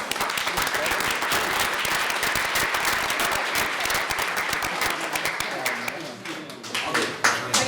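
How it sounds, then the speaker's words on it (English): Sustained applause from an audience at a school district event, dense steady clapping throughout that thins slightly near the end, with some voices mixed in the crowd noise. "So just a brief round of applause for our terrific."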